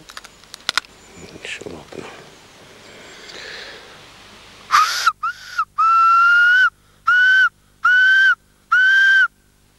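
A handmade grass whistle sounds a series of about five sustained, bright tones in regular bursts separated by short gaps, following rustling and handling noises near the start.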